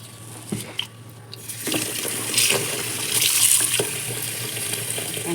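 Water draining and splashing from soaked finger millet (nachni) tipped into a strainer, a soft continuous trickle with a few clinks and louder gushes, fairly quiet and close.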